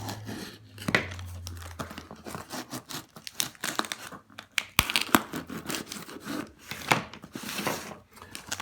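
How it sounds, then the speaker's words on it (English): Cardboard shipping box holding HO-scale diesel model locomotives being cut open, with close scraping, rubbing and crinkling bursts plus a few sharp tearing snaps, no talking. "I'm going to go ahead and get right into cutting our second box open."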